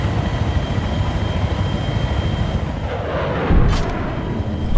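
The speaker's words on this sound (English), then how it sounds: "you just got slammed into by a friendly jet" A friendly jet crashes into a player in the video game Battlefield 3. A dense, roaring rumble of battle noise runs throughout, with a brief sharper impact burst near the end.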